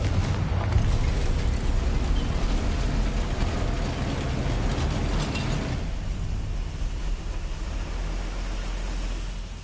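The Confringo fire spell in Hogwarts Legacy erupts in a sustained fiery blast, a dense roaring rush of noise with crackling bursts that softens after the first several seconds into a lower rumble.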